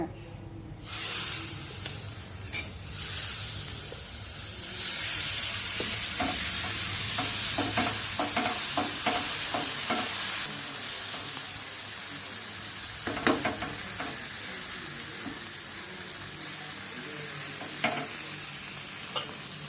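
Dosa batter cooking on a hot oiled pan, a sustained hissing sizzle with scattered scraping and tapping from a spatula, steady and close, a voice faintly present at times.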